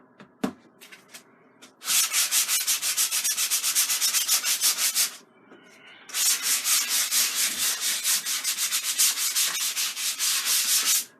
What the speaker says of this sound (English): So this is just some silicone 180 grit sandpaper.